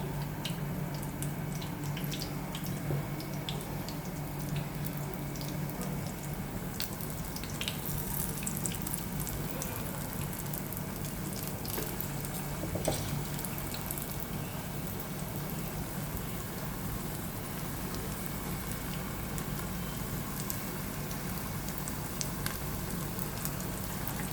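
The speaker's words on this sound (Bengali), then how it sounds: "এই বড়াগুলো আস্তে আস্তে তেলে ছাড়ব। ডুবু তেলে ছাড়ছি।" Small round lentil fritters (bora) deep frying in oil, a constant fine bubbling hiss with scattered pops and crackles, close and fairly quiet throughout, no talking.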